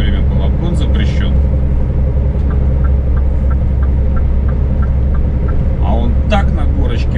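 A car cruises at speed on a German highway at night while overtaking another vehicle, giving a steady loud engine and road rumble throughout, with people talking over it.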